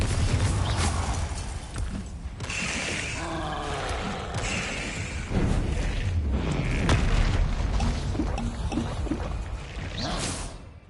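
Fiery Confringo spell explosion cast in Hogwarts Legacy, a loud booming blast with roaring rumble that sustains across the clip amid dense layered game effects.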